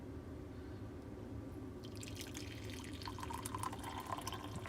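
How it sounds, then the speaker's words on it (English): Coffee pours from a dispenser into a cup while boondocking, beginning as faint background hush and turning into a soft, steady trickling stream in the second half. "So all you do is take your coffee and you turn this so I have it so it pours."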